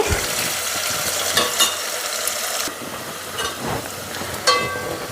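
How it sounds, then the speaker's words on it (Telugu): Sliced onions and curry leaves fry in hot oil with a continuous close sizzle, broken by scraping and clattering strokes as a spoon stirs the pan. "ఎర్రగడ్డ మెత్తపడే వరకు అయితే ఇలాగే వేపుకుందామండి"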